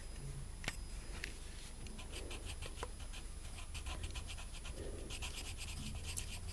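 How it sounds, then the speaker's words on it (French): A black colored pencil pressed hard on paper while drawing a panda's nostrils gives faint, close scratchy strokes in short bursts against a quiet background. "vous allez appuyer un peu plus fort sur le crayon noir pour qu'on voit bien la délimitation des narines"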